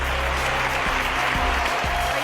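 Audience applause filling a lecture hall at a weight-loss and energy talk, steady dense clapping throughout with a faint low hum underneath.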